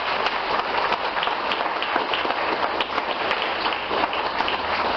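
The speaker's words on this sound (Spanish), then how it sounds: "Dale un aplauso al Rey." Church congregation breaks into sustained applause, a dense, steady wash of many hands clapping at close range for several seconds with no break.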